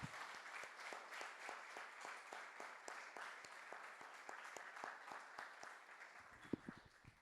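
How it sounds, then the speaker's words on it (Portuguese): A church congregation claps steadily and rhythmically together, a sustained faint round of applause with even beats, a few louder claps near the end. "Você pode aplaudir o Senhor bem forte."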